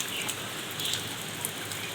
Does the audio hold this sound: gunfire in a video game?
no